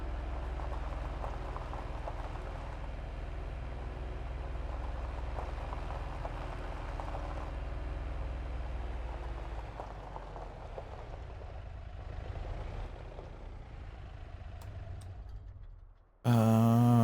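Watering a greenhouse in the farming video game Farming Simulator 25: a continuous hissing, pattering spray like rain on a surface, steady for a long stretch and then easing off before cutting out abruptly, with no talking.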